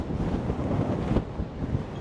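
Strong wind gusts buffet the microphone during an outdoor bike ride, a dense, loud roaring rush with brief surges and no clear voices.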